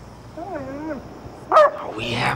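A small puppy yips and whines in a few high, wavering cries, close by, followed by a brief sharper yelp, with a person talking around it.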